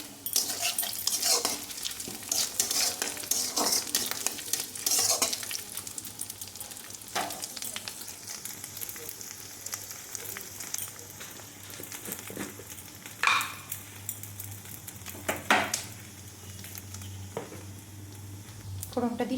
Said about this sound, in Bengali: আর এই কড়াইয়ের মধ্যে এবার ফোড়ন দেব হিং, গোটা গরম মশলা, জিরে,